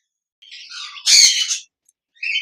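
A male pet bird from a breeding pair squawks sharply at close range: a rough call, a louder burst, then a short final squawk, with no other sound around it.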